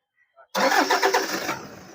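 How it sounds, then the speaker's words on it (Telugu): After a brief quiet moment and a couple of small clicks, the engine of a 2014 Toyota Fortuner cranks and catches with a loud burst, then settles toward idle. "ఒకసారి మీకు నేను ఇంజన్ కూడా స్టార్ట్ చేసి చూపిస్తాను"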